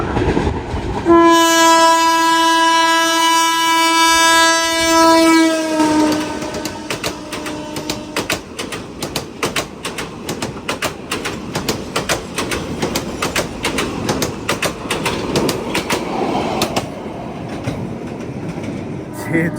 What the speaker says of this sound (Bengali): দূর থেকে ট্রেনের সাউন্ড পাচ্ছি ওই যে ট্রেন আসতেছে